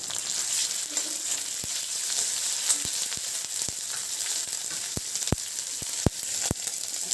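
Ginger paste frying in a pan, a steady bright sizzle punctuated by a series of sharp clicks from a spatula tapping and stirring.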